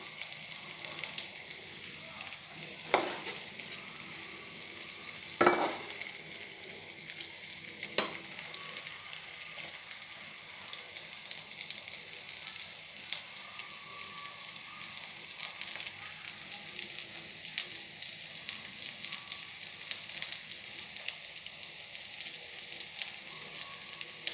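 Breaded potato balls fry in oil in a pan with a steady, even sizzle that runs throughout, broken by a few sharp clicks and clatters from handling.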